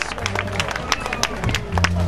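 An audience claps and cheers after a singer's cover song at a live show, with a busy crowd texture of claps alongside a voice and background music.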